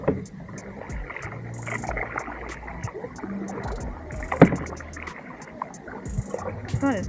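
Kayak paddling on the sea at a Jamaican resort: irregular splashes and water swishes from nearby paddle strokes over wind and churning water, with faint voices now and then.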